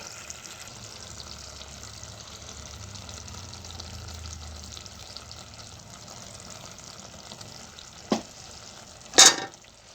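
Mutton curry simmers in a pan as chili powder is stirred in, a soft, low sizzle running steadily before two sharp utensil clanks near the end.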